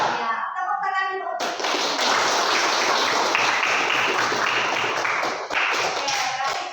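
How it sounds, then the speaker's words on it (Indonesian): A group of children clapping their hands, a dense, steady round of applause-like patter that runs for several seconds after a woman's brief instruction. "Ya, tepuk tangan dulu."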